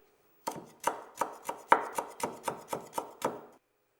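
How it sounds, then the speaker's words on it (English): Kaffir lime leaves, folded tightly, are finely sliced with a knife on a board: about eight crisp, steady chops in quick rhythm, close and clear with no voices. "You will need to chop the kaffir lime leaves very finely"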